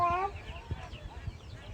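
A hen gives a short cackle, followed by soft clucking amid a busy background murmur of people at an animal and bird market.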